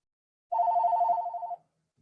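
A single short burst of a telephone ringing, a trilling electronic bell lasting about a second in an otherwise quiet indoor space.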